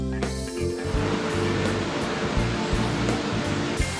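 Tiu Kelep waterfall on Lombok, Indonesia, pouring from a high cliff, gives a steady, loud, broadband roar of crashing water that holds constant throughout, with no voices.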